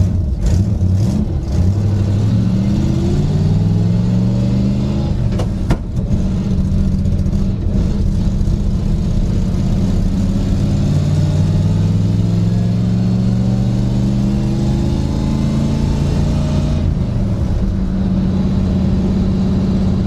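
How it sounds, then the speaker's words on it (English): A Chevrolet Nova engine hums steadily as the car cruises, pitch rising gently through gears and settling into a smooth drone, heard from inside. "I'm just gonna get up to speed and see if the rear end noise has gone away."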